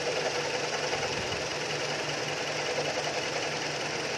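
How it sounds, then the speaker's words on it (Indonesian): A Hyundai Sonata, a former taxi, idles with its engine bay open, giving a steady, even mechanical hum with a faint ticking rhythm that runs unbroken and close by, with no talking. "ini ruang mesinnya ya oke mesinnya hidup mesinnya halus"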